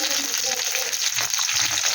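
Chopped onion fries in hot oil for a chilli baby corn dish, giving a steady, close sizzling hiss that holds evenly for the whole moment with no voices over it.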